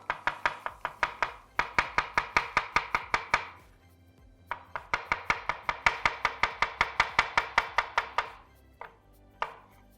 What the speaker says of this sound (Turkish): Hemen mantarlarımızı doğramakla başlıyorum.